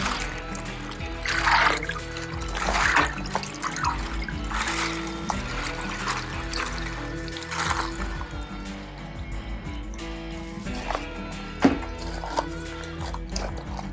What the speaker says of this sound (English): Instead of dumping this broth out, I'm actually going to put it in with the water